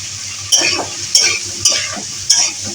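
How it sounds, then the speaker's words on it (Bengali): Carrot, pumpkin, beans and cucumber sauté for khichdi in a hot pan, a close, steady sizzle punctuated by four evenly spaced scraping stirs of a spatula. "আবার একটু কষিয়ে নিচ্ছি।"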